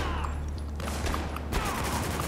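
Gunfire in the shooter video game Spec Ops: The Line, with an enemy firing a shotgun: a dense crackle of shots and reports, with sharper broadband bursts near the start and again toward the end over constant battle noise.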